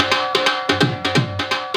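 A dhol drum beat in a bhangra production, loud and up front, with sharp repeated hits in a quick, bouncing rhythm layered over a full kit and a sustained low bass tone.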